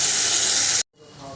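Mustard and peanut paste hits hot oil with a loud, bright sizzle that holds steady for under a second, then cuts out abruptly before a softer sizzle swells back in.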